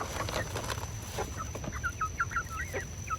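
Chickens cluck repeatedly in short, bright bursts while pecking at black soldier fly larvae, close by over a steady low background hum.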